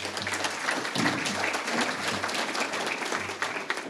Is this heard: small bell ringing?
no